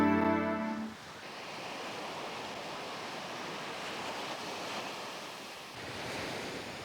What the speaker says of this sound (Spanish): Esta es la Playa del Sol de Viña del Mar.